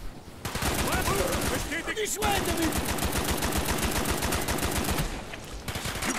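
Rapid machine-gun fire from Call of Duty Black Ops hammers away in long, steady bursts after a brief pause, loud and close, with someone talking over it.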